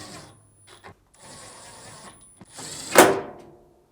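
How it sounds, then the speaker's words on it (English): Screws being driven back into a Samsung dryer's control panel: a run of mechanical whirring and clicks, then a loud ratcheting burst near the end, close up with no talk. "tilt the control panel back in place and reinstall the 4 screws"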